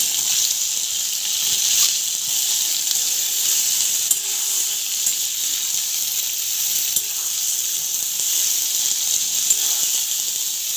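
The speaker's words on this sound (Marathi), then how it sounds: "तेलावर छान परतून घ्यायची" Stuffed okra sautéing in oil in a pan gives a loud, steady hiss-and-sizzle throughout, close and even, with faint scattered clicks and no talking.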